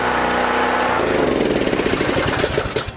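A small engine runs loudly up close, its steady drone turning into choppy, irregular sputtering pulses in the last seconds.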